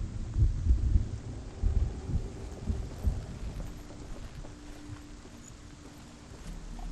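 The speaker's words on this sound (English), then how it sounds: "I hear a thudding heartbeat every" A heavy heartbeat thuds in the video game Hellblade, low and muffled pulses in an irregular run that loosen and fade toward a dim rumbling ambience.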